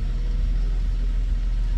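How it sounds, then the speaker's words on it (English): Supercharged Toyota Altezza with a 1G-FE six-cylinder engine idling at about 900 RPM, a steady low rumbling hum heard up close with no talking. "Idling about 900 RPM"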